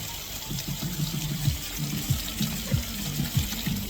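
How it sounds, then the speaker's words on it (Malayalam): A steady rush of falling water at a waterfall reached after a trek, fairly loud and continuous, with low murmuring voices beneath. "നമ്മളങ്ങനെ ട്രക്കിങ്ങിന് ശേഷം ഒരു വെള്ളച്ചാട്ടത്തിൽ വന്നിരിക്കുകയാണ്"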